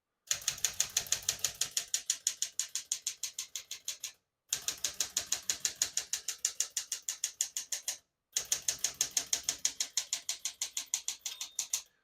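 Rapid, even keystrokes on a 1971 Smith-Corona Super Sterling portable typewriter, close and crisp, in three steady bursts separated by brief pauses, with no voices.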